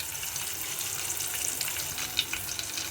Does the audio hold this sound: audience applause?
no